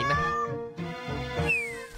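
Meowing of cats in the Super Granny PC game, a few clear, close meows with rising and falling pitch over game music.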